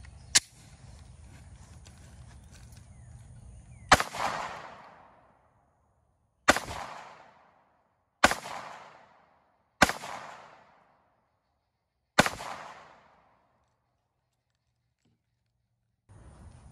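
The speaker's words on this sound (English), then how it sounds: "Second 5-shot is going to be from the Glock 19 at 10 feet." Five sharp 9mm gunshots from a Glock 19 pistol fired at a target 10 feet away, spaced irregularly over several seconds, each loud crack followed by a short decaying echo, with a faint steady background hum before the first shot.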